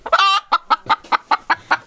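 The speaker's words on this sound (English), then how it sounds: "Hey chicken." Farm chickens cluck close by, one drawn-out squawk followed by a steady run of short, evenly spaced clucks, loud and clear with no talk.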